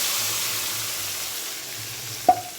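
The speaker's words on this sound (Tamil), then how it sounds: "இப்போ நம்ம கரைச்சி வச்சுருக்கோம் இல்லையா மசாலா, தக்காளி, வெங்காயம், புளி கரைசல் எல்லாமேவும் நம்ம இதில் ஊற்றிடலாம்." A hot pan holds a masala, tomato, onion and tamarind mixture for a Catla fish curry cooked in coconut oil. It gives a soft, even sizzle that fades slightly, then a single sharp clink near the end.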